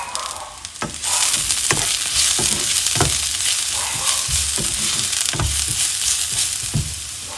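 Onion, ginger, garlic and curry leaves fry in a hot pan for pepper chicken, a steady loud sizzle broken by repeated scraping stirs of a spoon, with no talking.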